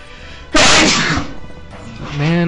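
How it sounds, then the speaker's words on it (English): A single loud, close sneeze from a man recording a Pokemon Conquest playthrough, a sudden burst that trails off, followed by a voiced sound. "of course I sneeze right after I start the recording"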